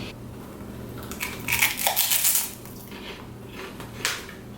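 Crunchy bites into a fried fish skin snack in the style of Hong Kong street-stall zha yu pei, a cluster of close, crisp crackling crunches in the middle with a softer crackle near the end.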